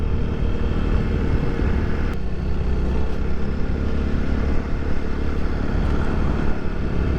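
Motorcycles and private cars moving along the Kanti Lokpath mountain road, a continuous loud engine rumble with wind buffeting, as if recorded from a moving vehicle, and no voices.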